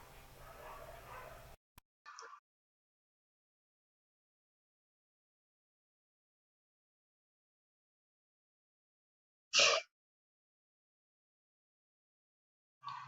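A corgi gives a few short, isolated barks and yips spaced several seconds apart, separated by silence, after a brief burst of background noise at the start.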